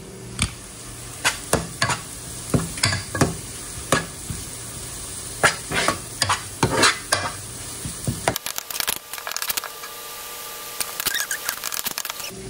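Onions fry in a pan for a Mindanao-style pastil, with close crackling sizzle and a series of sharp stirring scrapes, before the sound cuts to a quieter, thinner sizzle.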